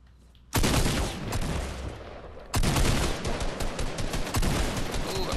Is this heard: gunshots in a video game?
yes